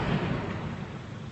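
A deep, rumbling explosion booms out and slowly fades, sounding muffled and somewhat distant, in the Sur district of Diyarbakır under curfew.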